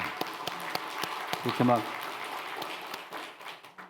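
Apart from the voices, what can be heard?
congregation clapping hands in church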